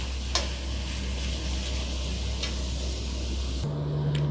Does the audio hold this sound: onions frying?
yes